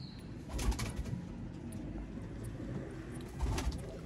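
Pure Ferozpuri pigeons coo in low, soft, repeated calls close by, with light shuffling and an occasional wing flutter from the birds.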